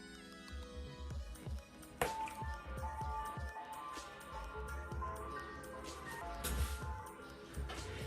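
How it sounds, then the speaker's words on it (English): An ice cream truck passes outside, its chiming tune drifting in over a continuous low rumble, steady in level for several seconds with brief louder bumps, no talk present. "An ice cream truck has just driven."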